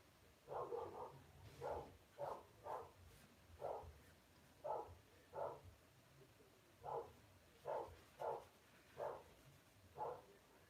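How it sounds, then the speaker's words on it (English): A dog barks in the distance, faint and well away, with about a dozen single barks spaced irregularly over several seconds against a quiet room. "I hear a dog barking"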